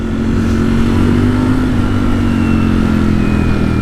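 A Ducati Streetfighter V4S motorcycle engine roars loud and close, holding a steady high-revving drone with a gradually shifting pitch, no talking over it.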